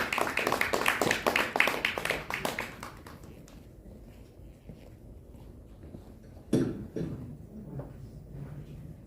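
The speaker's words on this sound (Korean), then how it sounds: "여러분 따뜻한 박수 부탁드리겠습니다." An audience at a ceremony with congratulatory speeches claps warmly, a dense burst of applause that fades after a few seconds, followed by quiet room noise and a single thump.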